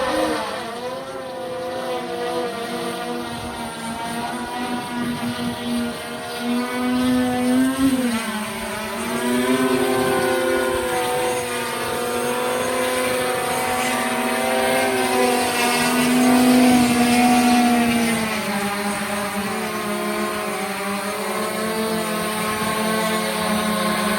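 Electric motors of a SkyLane-250 drone aircraft during a rapid descent with the pusher propeller stopped, a steady droning whine that shifts in pitch and swells in the middle, heard close and continuously.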